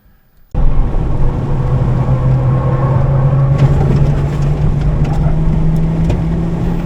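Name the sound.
race car driving fast on Pocono infield track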